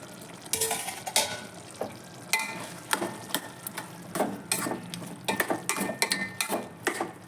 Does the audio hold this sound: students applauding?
no